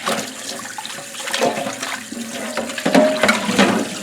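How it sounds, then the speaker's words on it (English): Water runs and splashes into a bowl as pork ribs are rinsed in a kitchen, a loud, close, continuous gush with sloshing surges and no talking. "I'm going to rinse them a couple of times."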